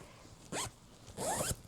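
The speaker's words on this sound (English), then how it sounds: "There is a zipper at the bottom, of course." A zipper on an 18 by 18 inch Halloween pillowcase is pulled in two quick, close strokes with a short pause between them.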